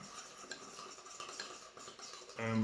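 A utensil stirring a pepper spice blend for pork belly in a small dish, a faint, soft scraping and clinking close by, ending in a louder clatter, with no talking.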